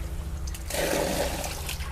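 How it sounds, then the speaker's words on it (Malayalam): Water drains out of a large monster fish tank in a soft, steady rush that swells into a louder gurgling flow midway, close and fairly quiet, with no talk. "നമ്മൾ മെല്ലേനെ കുറച്ച് വെള്ളം തെക്കി കളയട്ടെ"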